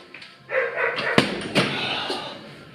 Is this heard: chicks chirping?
no